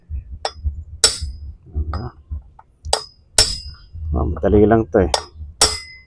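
Light hammer taps while fitting a front wheel bearing on a Yamaha NMAX scooter: several sharp metallic clinks spaced irregularly, close and loud, between short bursts of someone talking.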